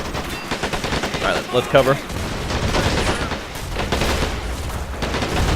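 Rapid gunfire bursts and booming explosions from incoming mortar rounds in the Men of War: Assault Squad 2 strategy game, with a battle against Japanese forces raging steadily under a brief spoken line.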